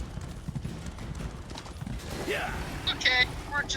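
Horse hooves clip-clop steadily in a video game while a rider travels on horseback, a soft rhythmic patter under background game sounds, with a few brighter tonal chimes near the end.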